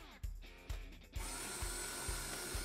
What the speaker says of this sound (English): connect the motor to the hub and turn it on.